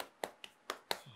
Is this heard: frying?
no